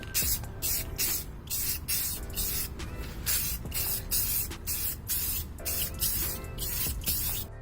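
Repeated short bursts of spray paint hissing from a can onto a car headlight, in a steady on-off rhythm, close up with no talking.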